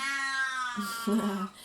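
A 19-year-old cat meows up close, starting with a long, steady, tonal cry and then breaking into two shorter, grumbling calls.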